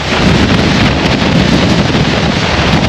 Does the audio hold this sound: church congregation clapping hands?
no